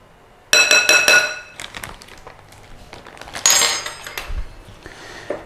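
Shredded beef is mixed with corn flour in a bowl, giving repeated clinks and scrapes of utensil against the bowl in two busy bursts, close and fairly loud.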